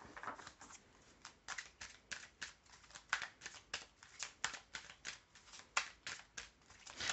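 Tarot cards being shuffled and drawn for an October 2021 Libra reading, a steady run of crisp riffling snaps and slides, close and fairly soft, with no voices.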